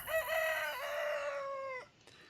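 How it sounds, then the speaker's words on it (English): A rooster crows in the video game Recycling Center Simulator, one clear, loud cock-a-doodle-doo call that rises, holds, then cuts off sharply, heard alone with no talking over it. "I gotta listen to that damn rooster again"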